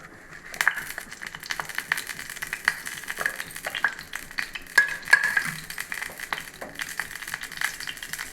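Mustard seeds and fenugreek sizzle in hot oil for a fish curry, with a moderate, steady crackle and scattered light pops and rattles from the pan throughout.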